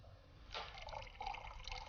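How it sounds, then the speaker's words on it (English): Colourless liquid poured from one glass beaker into another, a quiet start followed by a close, trickling splash that continues to the end. "let's see what happens when I pour the liquid from this beaker into this one."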